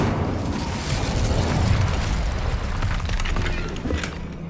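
Incendio, the fire spell in the video game Hogwarts Legacy, roars as a dense, continuous burst of fiery crackling and whooshing, loud and sustained for several seconds with no pause.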